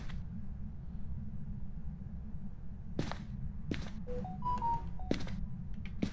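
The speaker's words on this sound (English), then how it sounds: "someone's phone just went off." A phone goes off in a quiet room during a Phasmophobia ghost-hunting game session: a short series of electronic tones with sharp clicks around them over a low hum, with no talking.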